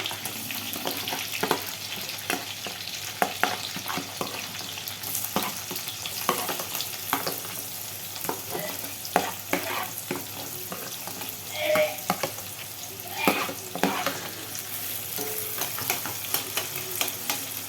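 Onion sizzles in a pan with chilli and curry leaves while being browned, a dense continuous frying hiss with frequent clicking stirs and spoon scrapes throughout, close and fairly loud, no talking.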